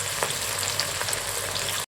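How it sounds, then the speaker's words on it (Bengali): Chopped onions sizzle in hot oil for a mutton kosha, a steady close hiss with faint crackles throughout that cuts off abruptly near the end. "আমাদের আগে থাকতে কেটে রাখা পেঁয়াজগুলো আমি তেলের মধ্যে দিয়ে দিচ্ছি"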